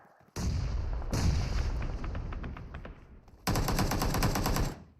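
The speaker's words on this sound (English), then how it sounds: "Out come a bunch of nades." Grenade explosions and gunfire in a competitive battle royale game scrim: a sharp blast opens, another follows, then a trail of rapid shots decays before a second burst of automatic fire crackles loudly and stops.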